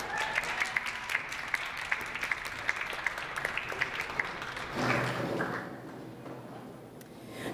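Audience at an open mic night applauding a performer, steady fairly distant clapping that swells, then thins and fades out toward the end.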